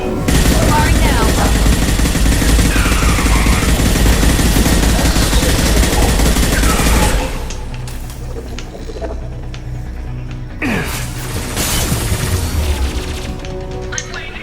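Sustained loud weapons fire from the Mass Effect 2 Legendary Edition suicide mission on Insanity difficulty roars for about seven seconds, then drops to sparser, quieter shots and combat noise.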